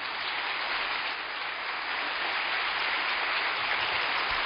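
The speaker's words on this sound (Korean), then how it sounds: "뜨거운 격려의 박수 환영해 주시기 바랍니다" A church congregation applauding at an early-morning special prayer service, a steady, even patter of many hands heard from a distance, somewhat muffled and uniform in level throughout, with no voices over it.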